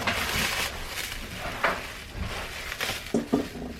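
Sticky keto tortilla dough is kneaded by hand, making soft, squishy, broadband rustles with a few sharper slaps and presses, close and alone.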